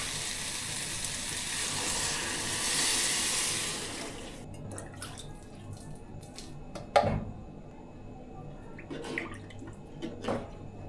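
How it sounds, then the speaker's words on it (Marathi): Water splashes into a hot pot of khichdi with a hiss for a few seconds, then quiet bubbling and a few soft clinks of a utensil. "आता आपण पाणी टाकूया याच्यामध्ये"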